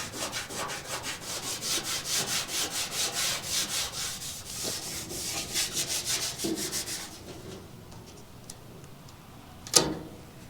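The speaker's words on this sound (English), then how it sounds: "I'm going to scuff the whole thing with a 3M or Scotch-Brite pad" Scotch-Brite pad scuffing a steel fender from a 1983 Ford F150 Bullnose truck, a steady rhythmic back-and-forth rasping of close, even strokes for about seven seconds, then quieter handling and a single sharp knock near the end.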